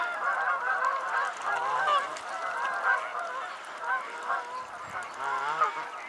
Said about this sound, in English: These are all Canada geese.